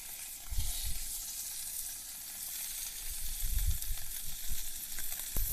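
Crab pieces and fish fry in hot oil with a steady, soft sizzling hiss, swelling and easing in bursts with a few low bumps from the pan, heard alone without talk.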